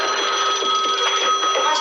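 A telephone rings with a bright, rapid electronic trill that runs continuously for under two seconds, loud and close.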